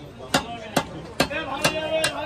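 Heavy knife or cleaver strikes chopping a large bhetki fish at a market stall, five sharp, loud whacks at a steady pace over a busy background hum.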